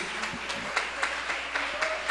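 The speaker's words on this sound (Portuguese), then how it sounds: "então agora aplaude a Jesus" Church congregation applauding during a service, soft rhythmic claps repeating at an even pace, faint and somewhat distant, with a murmur underneath.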